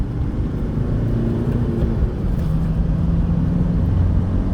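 Steady engine drone of a 2004 Dodge Ram Van 2.5 CRDI diesel driving along in second gear, a continuous low hum and rumble with no voices.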